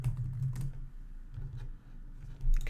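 Close, quiet keystrokes on a computer keyboard come in short bursts over a low steady hum, with no talking.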